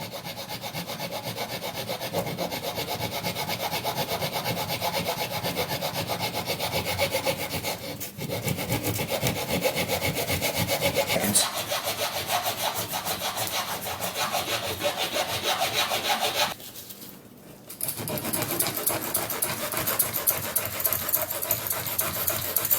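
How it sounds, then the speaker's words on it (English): A hacksaw cuts through wood for a scarf joint splice, its rasping back-and-forth strokes loud and close in a long, steady rhythm, pausing briefly twice before resuming. "So I take my hacksaw."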